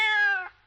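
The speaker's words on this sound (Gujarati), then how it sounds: "મ્યાઉ મ્યાઉ એવો મોટો અવાજ ના કરીશ" A single cat's meow, clear and close, a drawn-out cry that fades away in under a second with nothing else around it.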